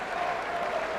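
Boston Celtics fans fill the arena at an NBA Finals game against the Lakers with steady, dense applause that blends into a loud, continuous crowd roar throughout.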